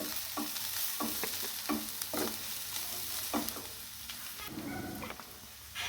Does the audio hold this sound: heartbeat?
no